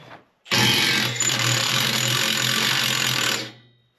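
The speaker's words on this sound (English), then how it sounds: "let's see if this little 3/8 drive Milwaukee has enough power to get this off" A Milwaukee 3/8 drive impact tool removing a blade for a 3-point rake on a Kubota B2601 tractor, a loud close burst of rapid hammering that runs about three seconds before stopping abruptly.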